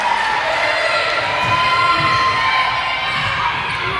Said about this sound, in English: we got our parents screaming too